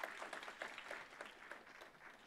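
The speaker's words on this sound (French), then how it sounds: "Vous pouvez peut-être les applaudir pour leur dire déjà." A church congregation applauding, a soft, distant patter of clapping that lasts a couple of seconds.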